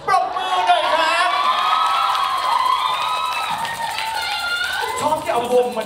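An audience at a press conference in Bangkok claps and cheers, steady applause with whoops and shouts rising and falling throughout, with voices over it.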